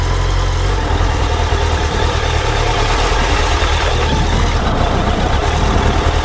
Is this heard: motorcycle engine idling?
yes